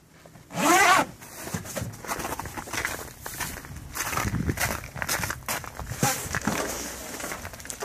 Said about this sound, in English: Put it back on, zip it up.